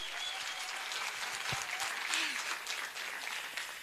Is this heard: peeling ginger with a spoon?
no